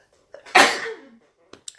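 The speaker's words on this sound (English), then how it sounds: "As I sneeze about it." A single sharp human sneeze, preceded by a short intake of breath and followed by faint breathy sounds, close and fairly quiet during a casual spoken talk.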